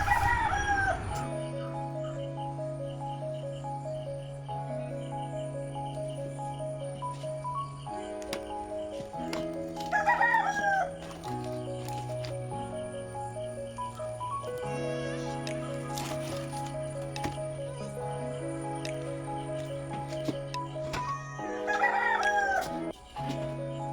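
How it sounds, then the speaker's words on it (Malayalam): A rooster and hens still shut in their coop at dawn crow and cluck in repeated bursts over a steady background hum. "കോഴിക്കളെ കൂടാണ്ട് വിടാഞ്ഞിട്ട് ഓലിങ്ങനെ ഒച്ചപ്പാടുണ്ടാക്കുന്നുണ്ട്"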